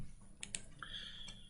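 A few quick clicks of computer keys being typed, faint and sparse against a quiet room hum, with a soft electronic tone drifting in behind them.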